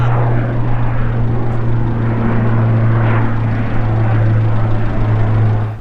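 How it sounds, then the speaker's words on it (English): A propeller airplane takes off near Ronda, Spain, with a loud, steady engine drone and a deep humming tone that holds throughout. "I've just heard a plane go off."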